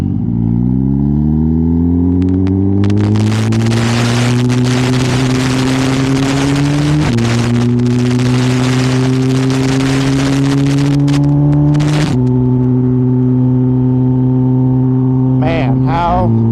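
A 280 hp turbocharged Suzuki GSX-R motorcycle with an ECU flash drones loudly and steadily as it accelerates, its engine pitch climbing through gears with sharp shifts, wind roaring over it.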